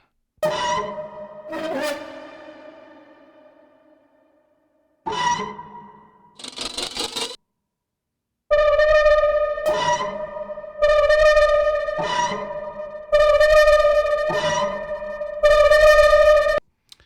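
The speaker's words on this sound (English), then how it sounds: "So these are kind of these screeches that I was doing on the cello. And then some of the extra ones are like friction, sort of scrapes." Bowed cello screeches and friction scrapes sound in separate bursts, some ringing out with a long reverb tail and others repeating in short clusters with gaps of silence between them.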